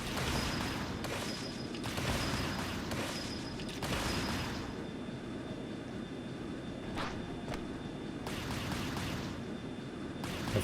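Gunfire from Fie in the video game Trails of Cold Steel, rapid repeated shots and bursts over a loud dense battle din with booms, continuous throughout.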